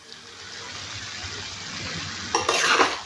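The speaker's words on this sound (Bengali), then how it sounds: "আবারও নেড়েচেড়ে মিশিয়ে নেব" Noodles being stirred into chilli paneer gravy in a pan: a steady low sizzle with soft scraping, then a louder burst of clattering spatula strokes near the end.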